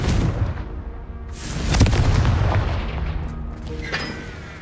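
Confringo fire spell in Hogwarts Legacy, a heavy booming blast that swells and rumbles for a few seconds, followed by crackling debris and fainter impacts, loud and close with no talking.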